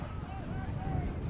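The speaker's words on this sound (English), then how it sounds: "You can hear from our crowd mics just how windy it is down there." Strong wind buffeting crowd microphones at Trinity Health Stadium during a Hartford Athletic versus Louisville City FC soccer match, a steady low rumbling roar throughout with commentary voices faintly over it.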